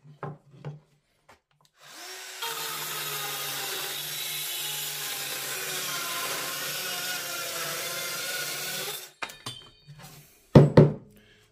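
A Bosch GKS 12V-26 cordless circular saw fitted with a Bosch blade cuts through oak in a steady, loud whine lasting about seven seconds, framed by short clicks and knocks before and after.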